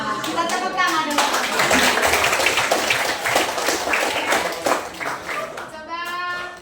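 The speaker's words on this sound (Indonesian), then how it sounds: "Ya, kita tepuk tangan dulu." A group claps together in a dense, sustained burst of hand claps in a physics classroom, with children's voices mixed in underneath.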